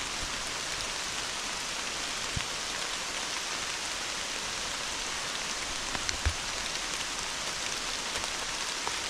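Steady rain pours down across an outdoor walk, a dense even hiss with a few louder drops landing close by, continuous and without voices.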